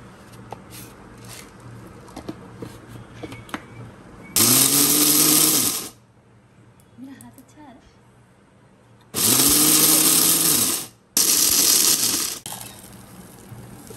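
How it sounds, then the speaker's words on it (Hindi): Electric grinder blending ingredients for pakoras, two loud whirring bursts of several seconds each and a shorter third one, separated by quieter stretches of faint kitchen noise. "ग्राइंड कर लेंगे।"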